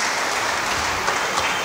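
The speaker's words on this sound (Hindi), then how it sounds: "उनके लिए भी ज़ोरदार तालियां," Loud, steady applause from a wedding audience for the choir, a dense continuous wash of clapping that holds evenly throughout with no voices over it.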